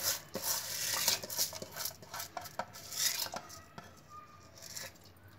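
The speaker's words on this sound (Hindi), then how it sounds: "अब मैं इसमें डालूंगी जो मैंने उड़द दाल धो के ली हुई है वो डाल दूंगी।" Washed urad dal is tipped into warm water in a pressure cooker, bringing soft splashes and squishes along with metal utensil clinks and scraping against the pot, close and fairly quiet.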